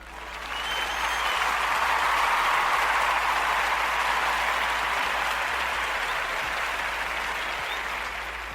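Sustained applause from a crowd at a comedy show, swelling in quickly, holding steady and loud for several seconds, then tapering slightly, with no voices over it.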